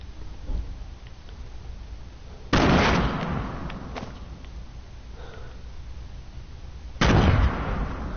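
Grenades going off in a solo battle-royale shooter match, two sharp heavy blasts a few seconds apart, each with a brief rumbling decay over quieter game ambience.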